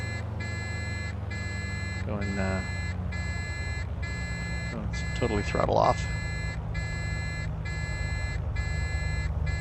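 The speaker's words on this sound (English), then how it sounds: "we're gonna have to listen to the alarm for a minute" A warning alarm in a Bonanza aircraft cockpit, a loud pulsing electronic tone repeating at a steady rhythm over the constant engine drone, with a person talking over it.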